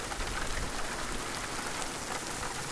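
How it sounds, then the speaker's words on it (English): Cold rain falls steadily outside beside a parked bus, a faint, even hiss of drops on surfaces with no voices. "Of course, it's raining out here."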